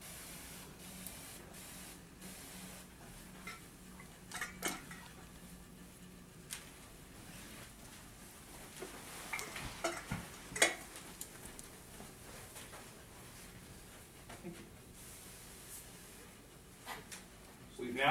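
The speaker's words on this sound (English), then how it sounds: "We've now coated the mattress and the 2 box springs in this case with enough material to be lethal to bed bugs" Bed bug insecticide sprayed onto a hotel mattress and two box springs, a soft steady hiss running throughout with brief louder bursts and faint handling taps; no talking.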